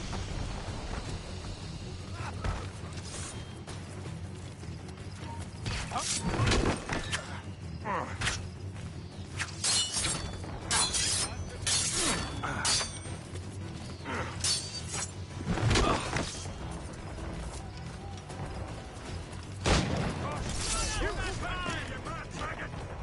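Heavy booming blasts of mortar fire in the naval video game Assassin's Creed Rogue, several loud broadband bursts landing amid a busy wash of ship creaks, mechanisms and ambient battle noise.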